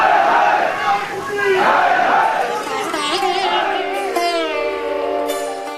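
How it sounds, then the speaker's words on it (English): A crowd of World Sikh Organization supporters gives loud, sustained cheers and shouts, with overlapping voices rising and falling over several seconds, close and filling the space. "The WSO crowd cheered him on"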